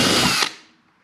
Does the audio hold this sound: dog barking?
no